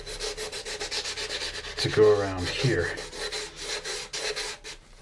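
A sanding block is rubbed by hand over the plastic hull of an AMT 1983 U.S.S. Enterprise model kit during paint prep. It makes close, rhythmic scratchy strokes, and someone speaks briefly in the middle.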